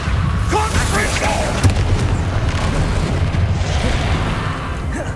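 A Confringo blasting spell goes off in Hogwarts Legacy, a heavy booming blast with deep rumble that rolls continuously under busy game sound and scattered voices, with a sharper thump near the middle.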